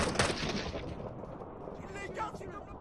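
Video game gunfire crackles in a run of sharp shots and bursts, loud at first and then thinning into scattered pops, with voices talking over the action.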